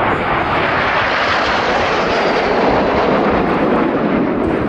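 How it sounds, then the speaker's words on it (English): Red Arrows jets trailing red, white and blue smoke during an airshow display at Roskilde, a loud, steady broadband roar of jet engines sustained throughout with no talk. "here's some red, white and blue smoke as Enid flies Leader's Benefit"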